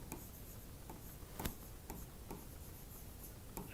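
Chalk or marker writing on a board during an economics lesson, a quiet steady scratching with a few sharper taps, with no talking.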